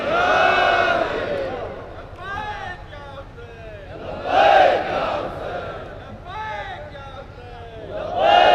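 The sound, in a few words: crowd chanting religious slogans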